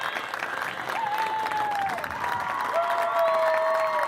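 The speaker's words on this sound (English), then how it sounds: "how about another nice round of applause for our two finalists?" Audience applause for two girls' Class B state finalists at a fall state finals awards ceremony, broad steady clapping and some cheering filling the whole stretch with a whistle-like tone rising over it.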